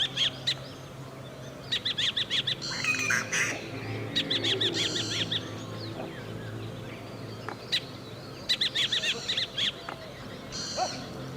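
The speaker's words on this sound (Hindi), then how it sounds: "तो ऊपर ब्लैक बुलबुल्स की कॉल लगातार आ रही है" Black bulbuls calling from high above in the Madhmaheshwar Valley, repeated bursts of sharp, nasal, chattering notes in clusters with short pauses, fairly close, over a soft outdoor background and without talk.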